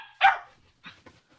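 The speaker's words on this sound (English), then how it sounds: "That's my dog saying" A pet dog barks once loudly up close, followed by a couple of softer, shorter yips and whimpers in an otherwise quiet indoor room.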